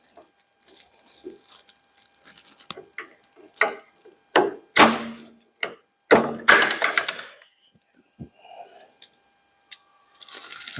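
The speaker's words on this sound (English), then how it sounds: "That was just a socket playing up." A socket ratchet clicks in irregular bursts of sharp ratcheting and knocks with pauses between, up close while working on a Ford Model T.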